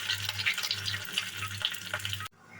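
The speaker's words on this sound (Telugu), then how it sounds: "ఆవాలు, జీలకర్ర వేసుకొని శనగపప్పు, మినప్పప్పు, ఎండుమిర్చి, కరివేపాకు ఇవంతా వేగిన తర్వాత" Mustard seeds, cumin, chana dal, urad dal, dried red chilies and curry leaves fry in hot oil for a Telugu-style tempering, a steady close crackling sizzle with light stirring, cutting off abruptly near the end.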